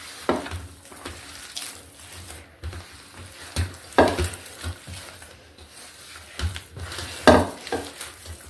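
Spoon stirring a thick batter of grated bottle gourd and rice flour in a bowl, wet squelching scrapes in irregular bursts, close and moderately loud with no talk.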